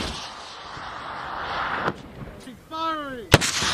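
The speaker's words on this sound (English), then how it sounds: "She's firing." An M3E1 recoilless rifle is fired by Marines on a range: a sharp, loud single blast near the end, following a rising whistling tone and low background noise, with no talking.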